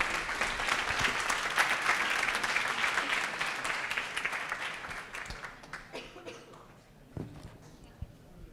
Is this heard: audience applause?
yes